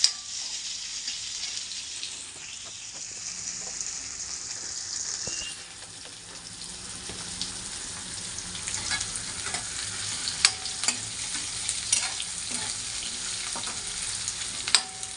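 Onions and masala frying in a pan, a steady, close crackling sizzle that runs throughout, with scattered clicks of stirring toward the end.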